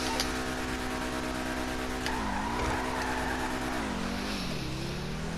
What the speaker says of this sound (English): We'll get our e-brake starting there.